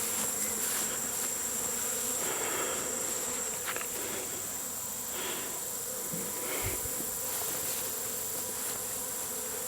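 A wild honey bee swarm buzzes steadily and densely throughout, a continuous insect drone close by outdoors with faint rustling underneath.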